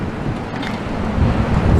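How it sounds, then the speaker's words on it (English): Strong wind buffets the microphone on Blackpool promenade, a steady roaring rush of gusts with rumbling low noise throughout, close and loud with no talking. "it is one of the windiest days in Blackpool that there's been for a long time"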